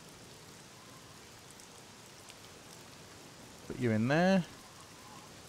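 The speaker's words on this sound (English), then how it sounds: "Raining, I'm getting wet." Rain falls in the survival video game Scum, a constant mid-level patter and hiss filling the whole clip, with a brief spoken phrase breaking over it near the end.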